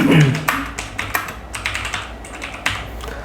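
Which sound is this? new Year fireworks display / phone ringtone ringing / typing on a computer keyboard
typing on a computer keyboard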